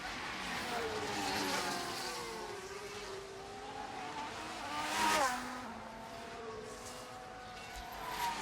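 Formula 1 race cars in F1 Manager 24 sweep round a corner, their engines rising and falling in pitch as they pass. One car swells loudest near the middle, with a steady mechanical drone running throughout.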